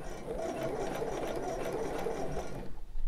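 A sewing machine stitches slowly across a bulky crossing seam while a bra is being made, running as a steady close mechanical whir before slowing and stuttering at the end.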